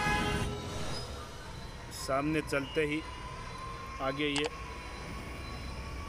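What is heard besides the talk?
Jaipur Metro train passing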